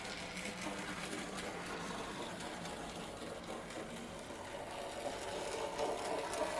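Model LSWR 302 Class locomotive running on a 9-volt battery, giving a steady, faint mechanical whirr and rattle with a slightly uneven, shaky tone throughout.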